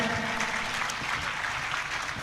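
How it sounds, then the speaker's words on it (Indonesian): Applause at a wedding gathering honoring the bride, groom and guests, a sustained patter of many hands clapping at moderate loudness, with no talking over it. "tepuk tangan untuk kita semuanya"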